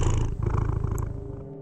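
A cat purrs loudly and steadily up close, a deep continuous rumbling drone with no voices over it.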